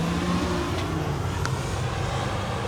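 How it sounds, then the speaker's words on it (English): A truck passes on a residential street near two parked touring motorcycles, a steady, loud broadband road rumble filling the short stretch with no voices. "we had to have a truck come by"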